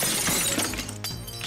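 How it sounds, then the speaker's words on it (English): Glass shattering effect from the Friday Night Funkin' mod Vs Bob, a loud crash that sprays and rings out over game music, with a second smaller break near the end. "Shattered glass is not music."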